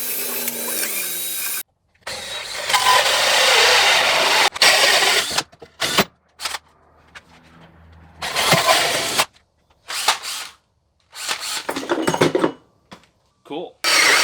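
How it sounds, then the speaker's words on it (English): A power drill bores a 1/8 inch pilot hole while a homemade speaker tester is built from spare parts. It runs in several loud, close start-stop bursts, with short pauses between them. "So this is where I will drill my 4-inch hole. I'm going to start out with an 1/8 inch pilot hole."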